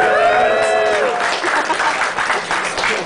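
A crowd at a fursuit games event applauds and cheers for the competing teams, with loud, dense clapping right from the start and a voice speaking over it.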